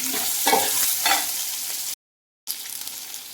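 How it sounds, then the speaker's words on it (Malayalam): Chopped onion, carrot, green chilli, cinnamon leaf and ginger pieces sauté in a pan for wheat rava upma, a close sizzle broken by scraping stirs, cut by a brief silent gap before the frying resumes. "ഈ അരിഞ്ഞു വെച്ചിട്ടുള്ള സവാളയും ക്യാരറ്റും പച്ചമുളകും കറുവാപ്പലയും കൂടി ഇതിലേക്ക് ചേർത്ത് കൊടുക്കാം"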